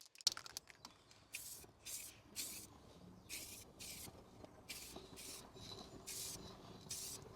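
Spray paint applied as a light coat to Land Rover Defender brake calipers: a series of short, evenly spaced hissing bursts from an aerosol can, quiet and close, with faint handling clicks between.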